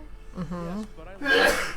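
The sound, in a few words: sneeze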